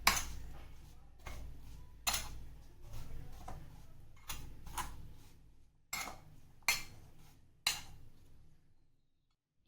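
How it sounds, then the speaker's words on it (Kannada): A spoon stirs cucumber pickle with mustard in a bowl for Mangalore-style southekayi pickle, giving quiet intermittent clinks and scrapes in a loose, uneven rhythm with near-silent gaps. "ಈಗ ಇದನ್ನು ಚೆನ್ನಾಗಿ ಮಿಕ್ಸ್ ಮಾಡ್ಕೋಬೇಕು."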